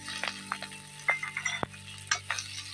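Onion, garlic and green chili tossed into hot oil, with a low hum, light scattered sizzling, a few spoon scrapes and one sharp metallic clink, quiet and close with nobody talking.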